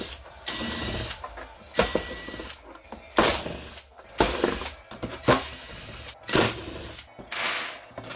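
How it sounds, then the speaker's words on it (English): Screws being unscrewed from the bottom of a Pioneer PL-115D turntable with a power driver, several short bursts of whirring separated by pauses and small clicks and handling noises, close by. "I'm going to go ahead and remove all the screws in the bottom of it."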